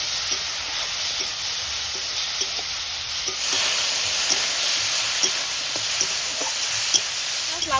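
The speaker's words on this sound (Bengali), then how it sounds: "তেল দিয়ে দিই চিংড়ি মাছটা ভাজার জন্য" Prawns fry in hot salted oil in a home kitchen, a steady bright sizzle with occasional soft pops and stirring clicks, growing louder midway through.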